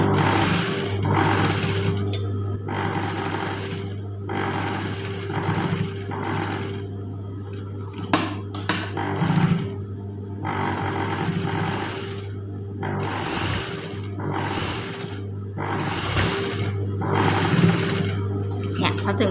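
A sewing machine stitches the inner leg seam of a pair of trousers one presser-foot width from the edge, running in repeated close bursts with brief stops, with talking over it.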